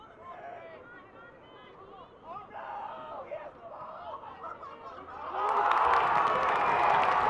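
Crowd noise swells into loud cheering at a high school boys' soccer game as a goal goes in, starting as background chatter under a commentator's voice and then bursting into a sustained roar.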